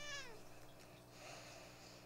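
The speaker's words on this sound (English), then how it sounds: "we might get the occasional meow from her" A pet cat meows once, close by in a quiet room, with a brief rising-falling cry that fades into soft room noise.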